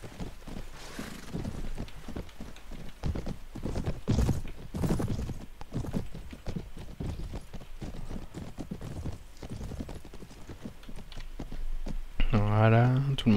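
Horses galloping and neighing in the video game Mount and Blade Warband: steady clip-clop hoofbeats run under continuous talk, and a loud whinny comes near the end.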